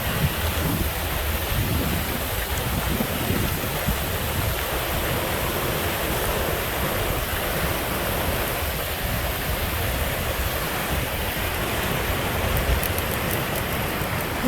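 Whitehorse Creek falls rushing steadily along a hiking trail, a dense, continuous roar of water that stays loud and even from start to finish with no voices over it.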